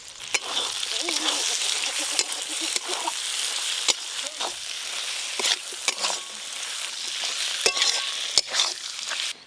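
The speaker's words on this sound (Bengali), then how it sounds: "পেঁয়াজের পাপড়ি দিয়ে হালকা করে নেড়ে নেব" Onion petals and tomatoes are stirred into a frying fish curry of rupchanda pomfret, with a continuous close sizzle broken by sharp spatula scrapes and knocks, and voices talking at times.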